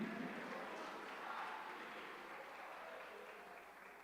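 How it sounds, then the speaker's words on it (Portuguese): A church congregation applauding during a sermon, a dense, fairly faint wash of many hands clapping that holds steady, then fades slightly toward the end. "Aplauda ao Senhor, dê glória ao nome dele."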